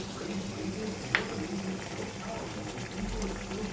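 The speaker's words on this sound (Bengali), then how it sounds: "আমি জল দিয়ে দেবো, আর একটু জল দেবো, আর একটুখানি জল দেবো।" Water is poured into a pan of sautéed onion, sesame and mustard paste for a country-chicken egg curry, a steady wash of splashing with a brief clink near the start.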